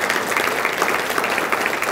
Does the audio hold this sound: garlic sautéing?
no